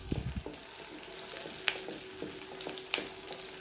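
Sliced onions and curry leaves fry quietly in a pan for a village-style kootan soru, giving a faint, steady sizzle broken by a few soft clicks and stirring clatters.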